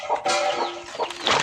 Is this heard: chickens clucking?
yes